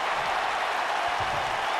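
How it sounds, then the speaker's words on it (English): Steady applause from a wrestling crowd for a former X Division champion's winning performance, dense and continuous clapping throughout with a faint crowd murmur, heard from within the arena. "Really gotta give that a round of applause."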